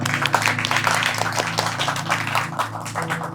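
Church congregation clapping together during a Hindi sermon, a moderate patter of many hands over a steady background hum, continuous through the short stretch.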